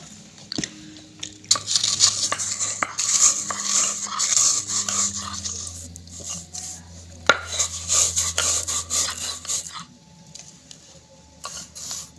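Happy Happy biscuits being crushed with a steel utensil for a stovetop cake, giving irregular bursts of clinking, knocking and scraping with a few sharper clanks, close and fairly loud, with no talking.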